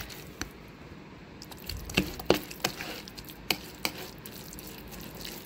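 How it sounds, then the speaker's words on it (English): Guacamole ingredients being mixed in a bowl, with soft wet squelches and a few sharp taps of the utensil against the bowl, spaced irregularly and close by. "Mix it all up."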